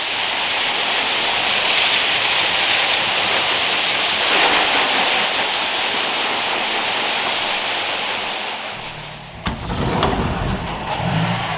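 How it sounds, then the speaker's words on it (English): Water spray hisses steadily against a dirty vehicle being washed, a loud continuous rush that tapers off near the end before a few brief clatters and splashes. "the rig's looking a bit dirty, so we're going to give her a quick wash"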